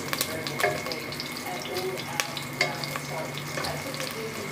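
Vegetables and oil fry in a pan for a home-cooked pechay dinner, a steady crackling sizzle with scattered sharp spatter pops throughout and no voice over it.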